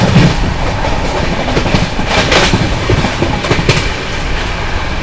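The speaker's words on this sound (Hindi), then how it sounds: "ऐसा लगा भाई फ्लैट 130 की रफ्तार में ओवरटेक मारा हम लोगों ने मरुधर एक्सप्रेस को शिकोहाबाद जंक्शन पे" Shiv Ganga Superfast Express at 130 km/h overtaking the Marudhar Express near Shikohabad Junction, heard from onboard as a loud, steady rail roar with rhythmic clickety-clack of wheels over joints and bursts of passing-train rush.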